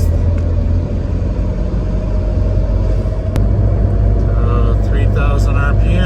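A Mitsubishi Lancer Evolution MR with an SST transmission cruises at 3,000 RPM in sixth gear, a loud steady low engine drone and road rumble filling the cabin while someone talks over it.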